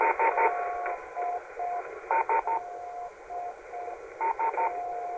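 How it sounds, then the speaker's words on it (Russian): Morse code telegraph beacons come through a Yaesu FT-897 shortwave transceiver on 8.5 MHz as steady, clear keyed tones in repeating groups over faint radio hiss. "Послушаю на эти два трансивера телеграфные маячки и сравню, как их слышно."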